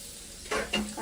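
Carrots dropped into hot oil in a wok, bursting into two loud sizzling surges after a quiet moment, close and alone without talk.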